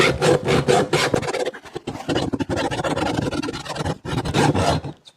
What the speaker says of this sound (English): It's a hacksaw.